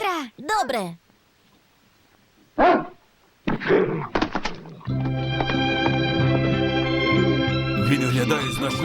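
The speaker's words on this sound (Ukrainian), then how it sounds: "Він гавкнув!" A few sharp dog barks and yelps in the animated series A Dog of Flanders, separated by short pauses, followed by a burst of sustained music with voices.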